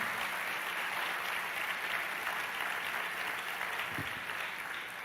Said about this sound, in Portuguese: Vamos aplaudir a Ele, que Ele está aqui.